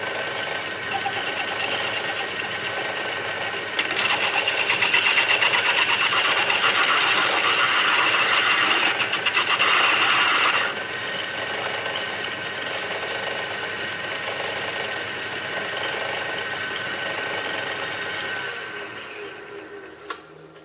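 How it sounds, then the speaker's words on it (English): A lathe reams out a drilled bore in a change gear blank for a project lathe, giving a steady loud mechanical whir with a harsher, brighter cutting section partway through before settling back to a running hum. "and ream that out"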